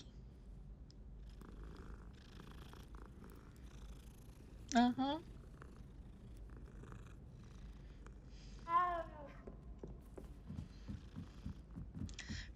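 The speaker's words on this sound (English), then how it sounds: "Pet the kitty, pet the kitty." Cat purring during petting in the video game Hogwarts Legacy, a soft continuous rumble with two brief meow-like cries standing out, while a person talks over it.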